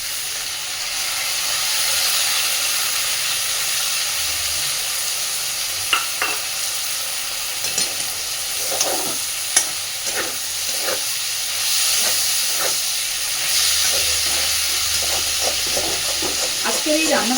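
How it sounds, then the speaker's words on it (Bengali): Small shrimp tossed into onions already fried until translucent, sizzling steadily in a pan for Bengali chingri chorchori, with intermittent scraping stirs and clinks of a spatula; no one speaks. "এইবার আমি এর মধ্যে কুচো চিংড়িগুলো দিয়ে দিচ্ছি।"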